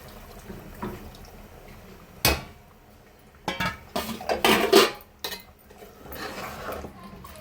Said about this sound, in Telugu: నేను వాటర్ యాడ్ చేస్తున్నాను.